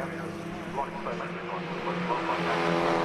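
Ford Fiesta race cars at Brands Hatch rumble along at a distance, with a steady engine drone beneath a commentator talking throughout.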